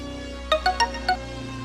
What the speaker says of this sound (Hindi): ये तो सोनी का फोन है।